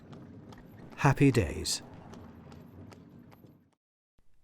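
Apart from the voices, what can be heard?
horse hooves pulling a Douglas horse tram car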